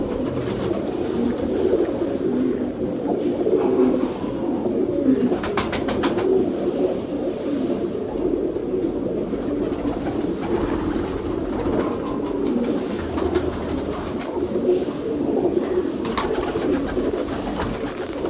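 Pigeons cooing steadily in a low, throaty murmur that runs through the whole stretch, close by and continuous, with a faint rumble and occasional clicks in the background.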